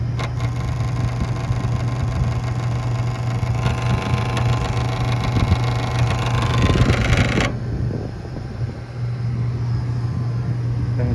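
Fujitsu air conditioner compressor kicking on briefly: a dense rumbling, buzzing mechanical roar that swells for several seconds, then drops off abruptly, leaving a steady low fan hum running on.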